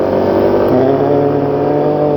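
A vehicle engine throttles up for acceleration toward about 50 km/h, with a steady harmonic drone that steps up in pitch partway through and keeps pulling loud and close.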